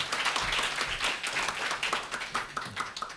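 Audience applause at an award ceremony for legislative and policy proposals, a continuous burst of many hands clapping, fairly close and steady, with faint voices underneath.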